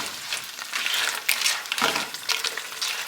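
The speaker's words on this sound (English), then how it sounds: "Just saute it" Lobster shells and a clove of garlic sauté in butter over medium-high heat, a close, bright sizzle with soft scraping as they are stirred, with no voices.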